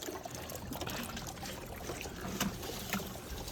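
A homemade 5-gallon toilet flushes with a continuous, fairly quiet rush and trickle of pouring water that holds steady throughout and carries no talk.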